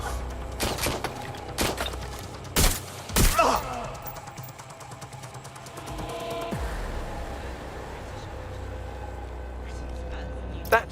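Gunfire in the video game Watch Dogs: Legion comes as a handful of sharp, loud shots in irregular bursts over the first few seconds, then fades to a low rumbling background with a single later crack.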